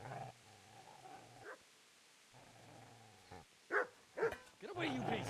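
A dog barks in the medieval video game Kingdom Come: Deliverance. Two stretches of low droning lead into a few short, sharp barks that bunch together in the second half, close and fairly loud.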